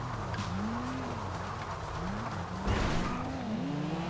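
A Sultan car engine races in GTA Online, a wavering, revving drone that rises and falls through gear changes, with a brief louder surge partway through.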